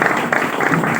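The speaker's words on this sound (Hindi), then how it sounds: "एक बार सभी लोग ताली बजाते रहे।" Brief burst of audience clapping at a gathering as guests are introduced, a short patter of hands with some pulsing accents.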